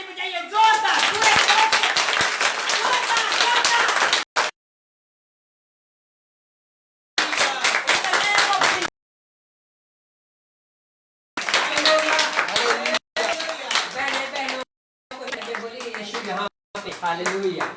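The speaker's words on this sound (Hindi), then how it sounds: "जोरदार ताली बजाइए" A church congregation at a Palm Sunday meeting claps in loud rhythmic bursts, broken by several abrupt silences, with voices mixed in among the clapping.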